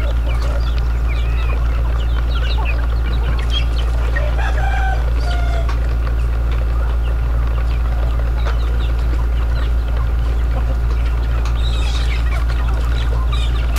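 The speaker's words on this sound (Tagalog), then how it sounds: "dumami yung aking mga manok rito" A free-range flock of chickens and roosters clucks and crows nearby, with overlapping calls scattered over a constant low hum throughout.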